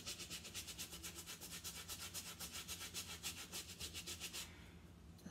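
A soft brush scrubs a shoe with fast, even back-and-forth strokes, a rhythmic bristly rubbing that is close and faint, stopping just before the end.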